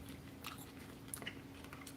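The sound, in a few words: chewing crunchy toasted bread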